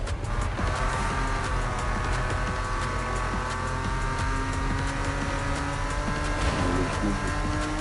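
A powerful sports car in the Need for Speed racing game drifts through a bend, its engine a steady high-pitched roar with tire squeal layered on top, loud and continuous throughout.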